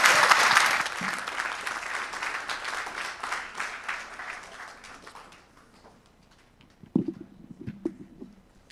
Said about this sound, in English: Let's give Ping a big round of applause.